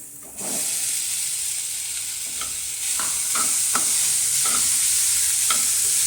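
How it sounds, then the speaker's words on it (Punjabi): Rice being stirred into a hot frying pan for fried rice, a steady sizzle and steam hiss under repeated scraping strokes of the spatula, close and fairly loud with no talking. "ਰਾਈਸ ਪਾ ਕੇ ਮਿਕਸ ਕਰ ਦਵਾਂਗੇ"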